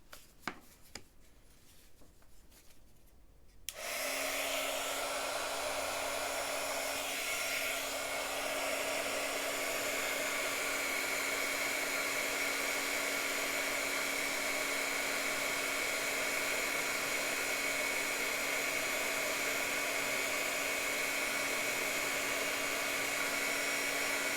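A heat embossing tool switches on after a few seconds of small rustling and then blows hot air over embossing powder on black card, a steady close whirring hum that stays level and continuous.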